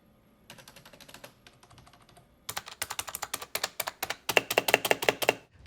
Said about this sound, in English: For the keyboard, I'm going with the SteelSeries Apex 3. Much better RGB, comfortable handrest, and my god, the keys are so quiet.